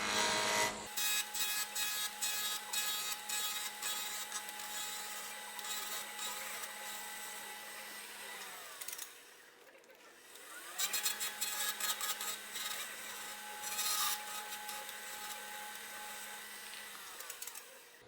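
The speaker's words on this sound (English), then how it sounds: "Spindle roughing gouge. Working from the wood out." Spindle roughing gouge cutting a spinning wood finial blank on a lathe, a steady loud scraping, chattering cut with a constant motor hum that pauses briefly midway, then resumes with the same continuous tearing texture.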